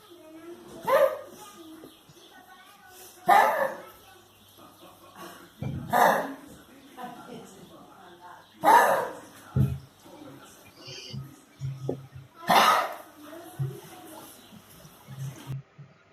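A dog gives several harsh, hacking bronchial coughs spaced a few seconds apart, each a short rough burst, with quieter wheezy sounds in between.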